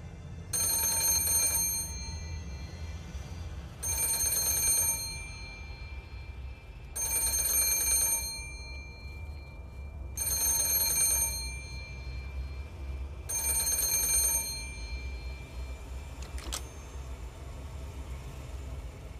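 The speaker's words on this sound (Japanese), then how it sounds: "リリリンと電話が鳴って" A telephone bell rings in five loud, bright bursts spaced about three seconds apart, with no voices, over a steady low background hum.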